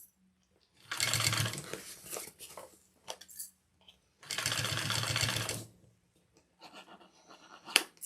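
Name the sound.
sewing machine stitching a bag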